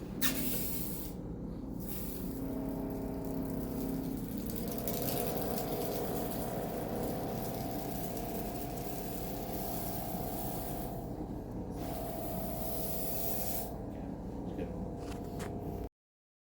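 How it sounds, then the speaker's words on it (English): Carpet cleaning pre-spray is misted onto carpet ahead of a TOPS Odyssey cleaning pass, giving a steady, fairly loud hiss that runs nearly unbroken for about sixteen seconds with a machine hum underneath. "we're going to apply our pre-spray really quick and give it a very brief dwell time"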